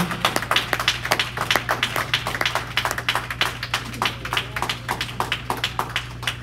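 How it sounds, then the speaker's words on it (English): A church congregation clapping their hands, a loud, rhythmic run of sharp claps repeating steadily over a low sustained hum, close and continuous for several seconds without speech. "Clap your hands, everybody."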